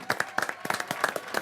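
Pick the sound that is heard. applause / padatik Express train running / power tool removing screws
applause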